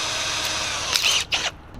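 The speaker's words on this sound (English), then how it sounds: "I'm going to do a couple with some normal drill bits to show you guys the difference." A drill with a normal bit whines steadily while drilling metal, then the pitch shifts with a couple of grinding surges before it winds down and stops.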